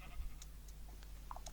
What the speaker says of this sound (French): Ah, il y a un troisième mouton,